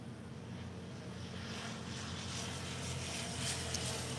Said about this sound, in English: United Airlines Flight 231 heading to London in a 787-9 Dreamliner